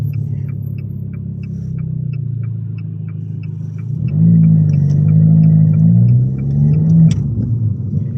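An Abarth with a Toyosports exhaust cruises with a steady low drone, then revs up and pulls away, its note swelling louder and rising in pitch midway before settling again. The sound is close and there is no talk.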